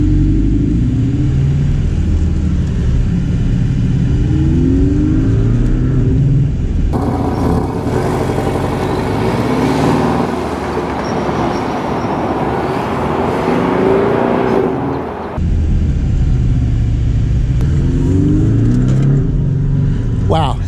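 A Porsche 718 Cayman S with a four-cylinder turbo engine pulls away in Sport Plus mode, its loud engine note rising steadily for several seconds from inside the cabin before easing back to a lower rumble.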